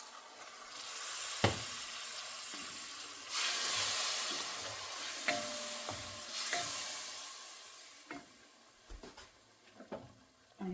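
Masala water from rinsing the mixer jar poured into a pan of sizzling drumstick (shevga) curry, steady hiss and frying crackle throughout with stirring clinks and a few sharp taps, close and moderately loud.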